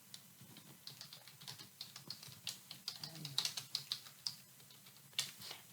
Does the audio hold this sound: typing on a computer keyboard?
yes